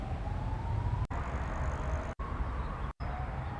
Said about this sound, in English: No, that's just the sound of sirens.